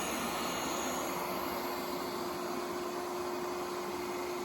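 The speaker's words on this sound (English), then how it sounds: "Y'all, this vacuum." A household vacuum cleaner runs loud and steady near a couch, a constant broadband whine with a fixed tonal hum, unbroken for the whole stretch with no talk over it.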